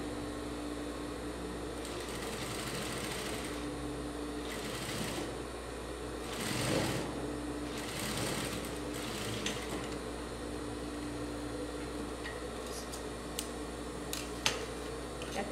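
A sewing machine stitching a simple fabric face mask, running in a steady mechanical whir with short pauses and a few faint clicks of handling, nearby and alone without speech.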